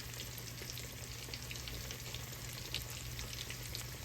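Pork chops fry in hot oil over a high flame, sending up a quiet, even crackle and sizzle with a low steady hum behind it, and nobody speaks.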